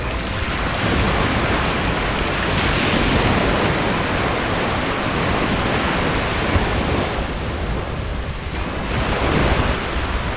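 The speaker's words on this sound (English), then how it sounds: "Now they have a yellow flag flying, so this surf is semi-dangerous" Ocean surf rolling onto Medano Beach in Cabo San Lucas, Mexico, under a yellow-flag caution: a loud, continuous wash of breaking waves with swelling crests, mixed with wind rumble against the microphone.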